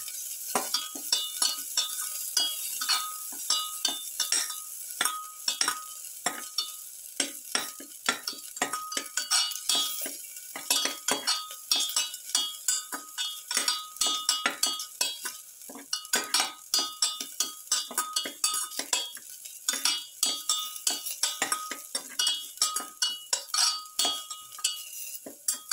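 Shrimp seasoned with salt sauté in a pan, a soft steady sizzle under frequent sharp clinks and scrapes of a utensil stirring against the metal.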